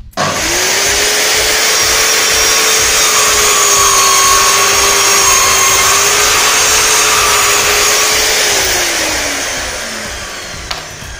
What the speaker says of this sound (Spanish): Ahora vamos a cortar los ángulos aquí a 45 grados.